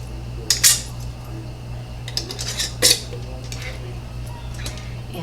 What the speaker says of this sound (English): Put our rings on fingertip tight.